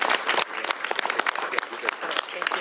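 Scattered clapping from a small crowd at a governor's bill signing, individual claps audible as sharp uneven bursts with some voices mixed in.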